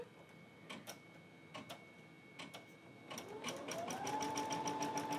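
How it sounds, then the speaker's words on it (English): A Brother embroidery machine gives a few spaced clicks and taps, then starts stitching with a rising motor whine and a fast, steady mechanical chatter, close and moderately loud, with no voices. "We're now ready to embroider, so I guess I just have to hit the start button."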